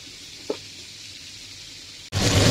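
Water spinach hits a pan holding fish head and potatoes, setting off a sudden loud sizzle after a quiet simmering stretch and a small knock.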